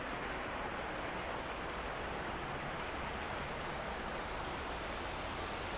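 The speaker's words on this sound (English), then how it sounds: "The water sounds gorgeous, doesn't it?" Water flowing steadily in Cheonggyecheon stream in Seoul, a continuous dense rushing wash that stays even and moderately loud with no voices.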